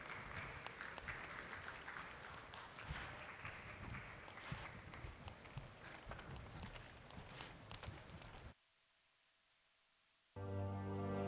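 A conference audience applauds to welcome a moderator onto the stage at a panel event. The steady, full clapping lasts about eight seconds, then cuts off abruptly to near silence, followed by a brief tonal sting.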